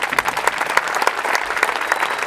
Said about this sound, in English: You can hear the crowd very appreciative of the match that just got played.